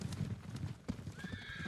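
Horses in the video game Ghost of Tsushima neigh and whinny over steady clip-clopping hooves, with a rising whinny near the end and a faint voice briefly underneath.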